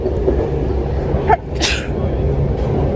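A single sharp sneeze bursts out against a steady background hum, with quiet room noise around it.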